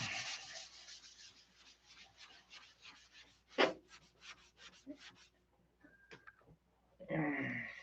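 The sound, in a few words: flattening a surface by sanding with 5000 grit sandpaper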